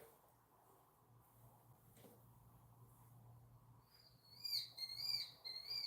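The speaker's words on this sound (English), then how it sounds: "The bird is back." A bird calls outside near a house, a series of bright, rising chirps that start partway through, fairly close and clear over a low indoor hum.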